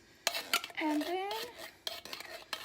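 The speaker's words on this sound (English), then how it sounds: "I'm gonna stir this up." Leftovers casserole gets stirred in a pot, with a few sharp scrapes and clinks of a utensil against the metal and a soft sliding swish between them, close and fairly quiet.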